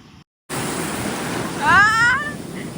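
Steady rush of surf washing in, swelling briefly louder, with a short whistle-like tone over the noise.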